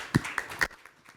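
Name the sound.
audience applause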